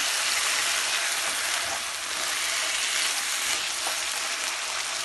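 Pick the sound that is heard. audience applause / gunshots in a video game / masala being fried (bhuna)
masala being fried (bhuna)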